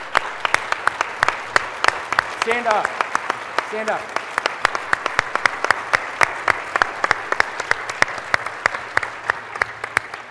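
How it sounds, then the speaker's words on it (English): A crowd at a tech conference session gives a round of applause, with steady, fairly close clapping all the way through and a brief spoken call to stand up partway in. "Would everybody give her a round of applause?"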